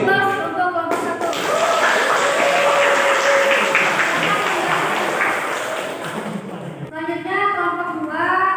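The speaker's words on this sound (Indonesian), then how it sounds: "Aplaus untuk kelompok 1." Classroom applause for group 1, a dense burst of clapping from a group of students lasting several seconds, fading as voices resume.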